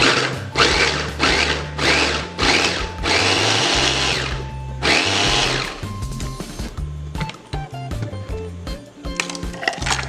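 Inalsa electric mini food chopper whirring loud and close as it chops ginger, several short bursts of motor buzz stopping and starting, then winding down into quieter clicks and rattles.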